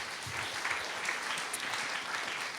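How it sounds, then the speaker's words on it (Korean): Sustained applause from a crowd, a steady wash of clapping at moderate distance, fairly soft and even throughout. "다시 한번 감사 박수 드렸으면 좋겠습니다."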